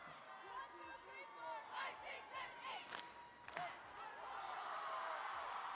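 A crowd at the 2025 cheerleading World Championships roars and yells loudly and continuously, with excited shouts rising and falling amid the arena din.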